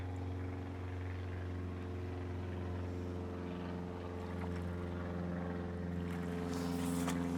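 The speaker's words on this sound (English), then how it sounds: "you even get planes flying by to watch you look at Lindholm" Over a fishing lake on a cold winter's day, a distant aircraft drones steadily overhead, a low sustained hum that slowly builds toward the end with no voices present.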